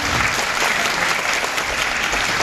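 Dense, loud applause from a crowd, steady clapping throughout without a break.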